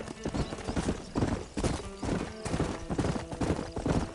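Horse hooves clip-clop in a steady, rhythmic gait through the Old West world of the Red Dead Redemption video game, fairly close and loud, with occasional whinnies and a rider urging the animal on.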